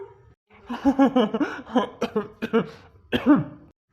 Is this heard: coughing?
yes